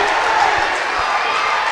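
A high school boys' varsity basketball crowd roars in a gym, a dense, loud, continuous wash of cheering and shouting with a few low thuds underneath.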